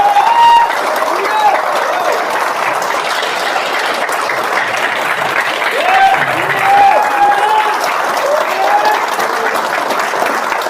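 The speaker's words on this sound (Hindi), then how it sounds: "एक बार गुरुदेव के लिए हाथ ऊपर करके दिल खोल के तालियां बजाइए" An audience claps enthusiastically at a motivational business seminar, producing a dense, steady wash of applause with a voice talking over it.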